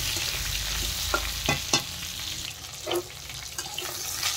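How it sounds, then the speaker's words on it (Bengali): Pointed gourd pieces fry in a pan with a steady, close sizzle, broken by several sharp scrapes and clacks of a spoon as they are stirred. "নেড়ে চেড়ে ভালো করে পটলগুলো ভেজে নিতে হবে"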